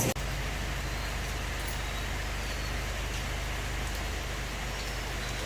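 Steady, loud rain pours down outside a grocery store, an even hiss that goes on without a break, with a faint low rumble underneath.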